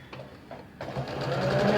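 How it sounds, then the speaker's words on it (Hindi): A sewing machine stitches a fabric collar strip for a stand-collar kurti, its motor starting softly and then running in a steady, close, continuous whir that grows louder toward the end, with no talking. "अब हम अपनी सिलाई लगाना शुरू कर देंगे"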